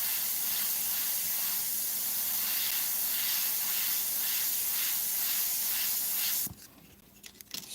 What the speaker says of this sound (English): So this airbrush is just an Eclipse HPBS, which is your top feed.